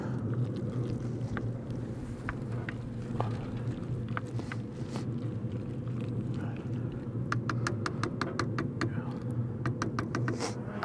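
Steady wind gusts roar across an outdoor grilling area while bacon mac and cheese pie is prepared, with faint clicks and rattles scattered over the constant rush.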